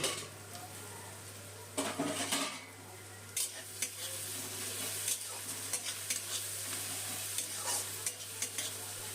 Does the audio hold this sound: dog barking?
no